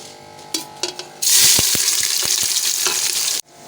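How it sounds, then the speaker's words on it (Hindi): Two medium onions drop into hot oil in a pan and burst into a loud, close, sustained sizzle with a few clatters, cut off abruptly at the end. "अब ये हम ऑयल में 2 दरमियाने साइज़ के प्याज डालेंगे।"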